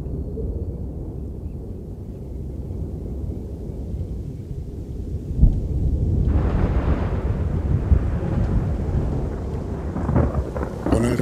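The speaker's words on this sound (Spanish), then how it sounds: "En Masai Mara, las tormentas de octubre se aproximan." A thunderstorm rolls in over the Masai Mara savanna in October, a deep continuous rumble that thickens into a heavier, broader roar halfway through, with a sharper crack just before.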